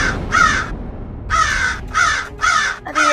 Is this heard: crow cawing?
yes